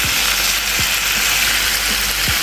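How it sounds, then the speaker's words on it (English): Chicken stir-frying over low heat in a pan gives a dense, even sizzle, with a few scattered spatula scrapes and knocks against the pan and no voices. "all the chicken are in. I'm just gonna stir continuously so it doesn't burn"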